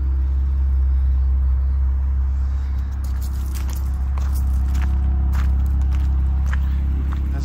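A car with a 3.4 petrol engine idles steadily with a deep, even rumble, while faint clicks and small movements are heard near it.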